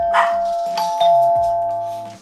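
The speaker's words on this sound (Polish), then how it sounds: "no bo już znowu ktoś dzwoni do drzwi." A doorbell chimes at a house door, a two-tone ding-dong ringing clearly with sustained tones, while a dog barks briefly at the start and again midway.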